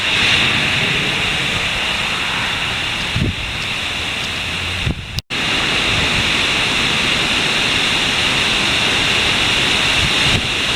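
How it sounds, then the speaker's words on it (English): Heavy rain and strong wind gusts of a hurricane, Hurricane Matthew, roar as a loud, dense, continuous wash of noise close by, with a brief dropout midway and no voices. "we're getting a wind gust right now, and they're up to 35 miles per hour with debris flying in the air"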